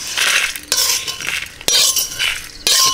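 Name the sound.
roasted spices being poured out of the pan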